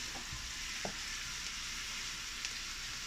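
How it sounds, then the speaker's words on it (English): Rice tossed into a hot pan with thyme sprigs, giving a steady, even sizzle throughout, with a couple of faint knocks near the start. "And now we're going to throw in our rice."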